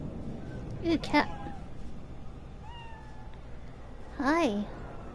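A cat in the video game Cyberpunk 2077 lets out two short, clear meows about three seconds apart, over quiet city ambience with faint voices in the background.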